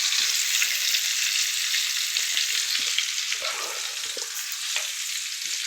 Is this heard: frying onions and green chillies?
yes